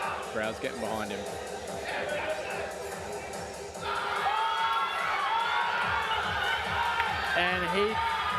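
A crowd at a powerlifting competition cheers and shouts encouragement for a lifter, the swelling roar rising partway through, with a commentator talking over it.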